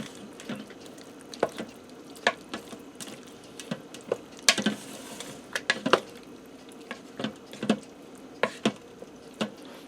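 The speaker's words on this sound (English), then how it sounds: "I'm going to stir that down into the potatoes" A spoon stirs sauce down into potatoes inside a pressure cooker pot, producing scattered clinks and scrapes against the metal with soft wet squelches, close and fairly quiet, with irregular pauses and no talking.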